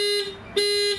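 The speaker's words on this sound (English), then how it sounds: "And that's the alarm." A Mitsubishi Pajero factory car alarm sounds close and loud, a steady high electronic tone pulsing in two blasts with a short gap between them, heard alone.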